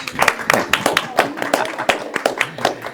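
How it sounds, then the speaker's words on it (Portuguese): Scattered hand claps from a few people, irregular and close, with voices in the background. "merece aplauso, viu, gente?"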